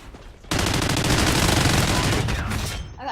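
Rapid automatic gunfire from a shooting video game bursts in abruptly and continues as a loud, dense, sustained stream of shots for over two seconds before cutting off.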